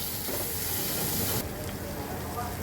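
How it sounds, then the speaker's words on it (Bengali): Spice paste with coriander powder sautéing in a hot pan gives a steady, close hiss and sizzle with faint scraping, continuous throughout. "আপাতত এই মশলাটাকে সুন্দর করে কষাতে হবে"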